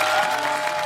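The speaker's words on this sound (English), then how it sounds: "Wow, roaring applause." Brief burst of studio audience applause, a dense wash of clapping lasting under a second at steady loudness.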